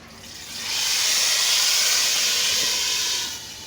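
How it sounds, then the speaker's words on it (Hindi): A loud, bright sizzle of spices tempering in hot oil for chicken haleem swells up and holds steady for a few seconds, then fades slightly, close by with no talking. "तड़का आपने भी ऐसे ही से लगाना है"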